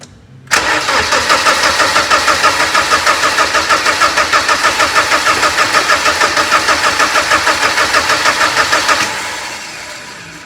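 A 1990 BMW E30 318is engine cranks steadily for about eight seconds without catching, the starter giving a loud, even rhythmic chug that stops abruptly and leaves a fading hum.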